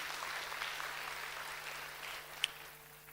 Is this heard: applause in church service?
yes